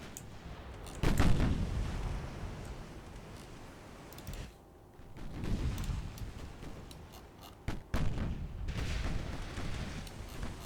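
Warship naval guns firing in the video game Ultimate Admiral Dreadnoughts, with three heavy booming salvos spaced a few seconds apart, each rolling into a long rumbling decay over a low background.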